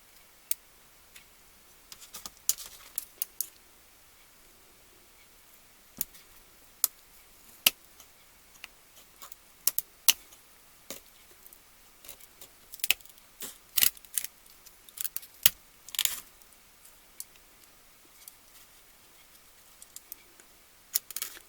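Scissors or a blade cutting through a hardened string egg give sparse, sharp snips and crisp crunching clicks, faint and close, spaced irregularly with quiet gaps between.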